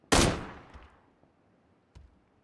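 A single sharp gunshot from the video game PUBG, loud and close with a fading tail, followed by a second fainter crack about two seconds later; no talking.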